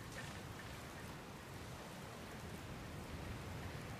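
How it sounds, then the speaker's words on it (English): Steady rain falls ahead of an approaching storm in Dragon Quest Builders 2, a soft, even hiss of drops that stays constant and faint with no voices. "looks like there's another storm rolling in"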